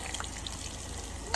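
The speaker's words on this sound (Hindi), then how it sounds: "ये मैं दाल में यहाँ तड़का लगा रहा हूँ" Onions frying in hot oil for a tadka tempering for masoor dal, a steady close sizzle and crackle with a few sharper pops near the end.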